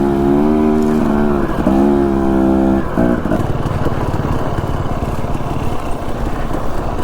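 A dirt bike rides single track on a dusty mountain trail, its engine loud and close with rising and falling pitch as it shifts and accelerates, then a rougher steady drone, no talk.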